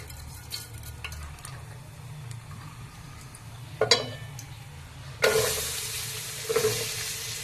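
Shahi jeera goes into about four ladles of hot oil for vegetable biryani, with a few light clinks first, then a sudden loud hiss that settles into a steady, crackling sizzle.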